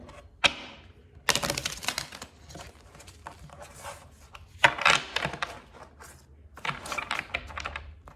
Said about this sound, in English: Okay, I'll just shuffle once more.